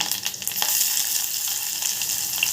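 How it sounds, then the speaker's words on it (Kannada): Mustard seeds and curry leaves dropped into hot oil for a drumstick curry, giving a close, bright, continuous sizzle and crackle throughout a short stretch with no voices. "ಇವಾಗ ಎಣ್ಣೆ ಕಾದಿದೆ ಅದಕ್ಕೆ ಕರಿಬೇವು ಹಾಕೊಳ್ಳೋಣ ಹಾಗೆ ಸಾಸಿವೆ ಕರಿಬೇವು ಎರಡು ಹಾಕೊಳ್ಳೋಣ"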